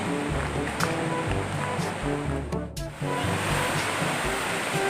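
A loud waterfall roars without a break at Can-umantad Falls in Candijay, Bohol, a dense, close rush of crashing water that fills the whole moment.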